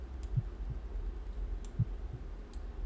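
A slow beating heart in the Call of Cthulhu necropolis scene: faint, muffled double thumps in a lub-dub pattern, two pairs spaced well apart over a quiet low background hum.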